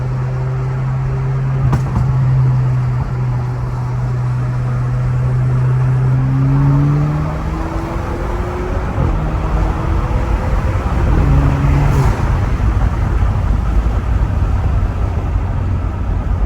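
An Alfa Romeo car under acceleration with a rising engine and boost whine that climbs, drops and climbs again over steady road and wind noise, heard from inside the car with no talking.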